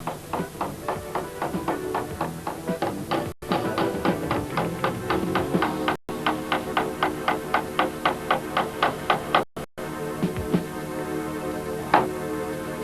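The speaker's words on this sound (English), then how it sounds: "With the outer member in compression, peen the cover." A CV joint cover on a Peugeot 405 axle is peened with rapid, evenly spaced metallic taps in long runs, broken by short pauses, close and fairly loud.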